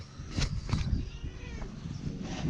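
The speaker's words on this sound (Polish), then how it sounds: "I się koty ganiają" Cats chasing each other on a farm give out meows and yowls in short bursts, close by, with rustling and a little background noise between the cries.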